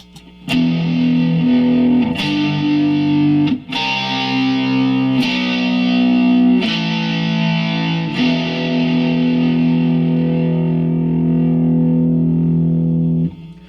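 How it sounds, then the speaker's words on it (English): A heavily distorted electric guitar, using a Mod Duo distortion setting, strikes a series of chords, each left to ring out thick and sustained before the next. "I have chosen one of the Mod Duo's distortion settings for this video, and here's what it sounds like"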